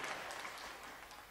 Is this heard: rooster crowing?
no